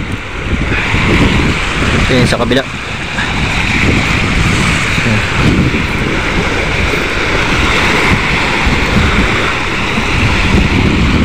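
Steady loud roar of surf and wind across the whole stretch, with a brief spoken remark partway through.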